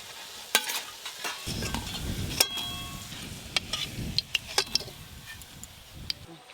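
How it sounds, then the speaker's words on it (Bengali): Raw banana koftas frying in oil for a fish curry meal, with soft stirring and scraping over a low sizzle and a few sharp utensil clicks, close by. "কোপ্তাগুলো ভালো করে ভাজা হয়ে গেল।"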